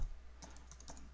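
Keystrokes on a computer keyboard as a web address is typed, a quick irregular run of light clicks starting partway in, close and fairly quiet, with no voices.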